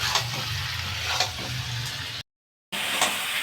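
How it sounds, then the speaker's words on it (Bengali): Dry chilli chicken fries in a pan with sugar added and no water, a steady close sizzle with a few scraping stir strokes, briefly cut to silence before the sizzle resumes. "একটু এভাবেই ভেজে দিব।"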